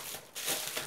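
Bubble wrap around glass bottles crinkling and rustling while packets are unwrapped, a close, continuous crackly texture with a short pause partway through.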